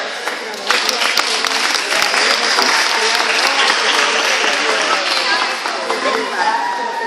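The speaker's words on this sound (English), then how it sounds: "give them another round of applause" Loud, sustained applause from an audience at a school awards ceremony for first grade students, steady clapping filling the room for several seconds with voices mixed into the crowd.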